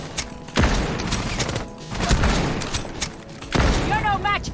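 Loud bursts of gunfire from the video game Rainbow Six Siege come in three clusters with booming impacts and clatter, and a voice talks briefly near the end.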